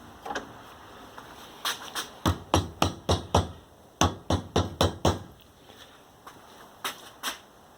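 An AC Delco control arm bushing is tapped into place with a hammer, producing clusters of sharp metallic knocks in quick runs of three to five, close and distinct over a quiet background.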